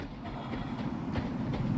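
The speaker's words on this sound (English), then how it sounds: "I think that's the train. That's the train line." A train rumbles past in the video game Star Citizen, a steady low rolling roar with faint rhythmic clatter, fairly close and continuous throughout.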